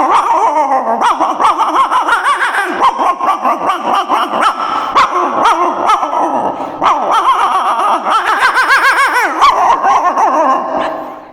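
A dog barks, yips and growls repeatedly in a village, the calls loud and close, packed into agitated bursts with whimpering between them and no other voices.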